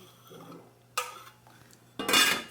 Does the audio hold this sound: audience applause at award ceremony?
no